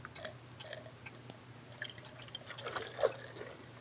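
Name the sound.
antifreeze poured down an RV drain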